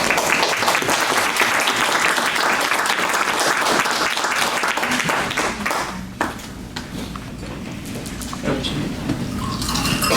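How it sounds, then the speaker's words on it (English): Loud, dense applause from a crowd fills the first half, then thins into scattered claps before swelling again near the end. "Give him big applause."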